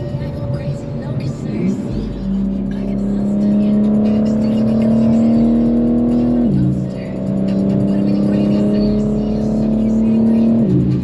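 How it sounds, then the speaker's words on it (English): A BMW G82 M4 Competition accelerates hard, heard from inside the car: a loud engine note climbs steadily in pitch, drops sharply at a gear change, then climbs again in a second strong pull. "Bro, this car is so fucking fast."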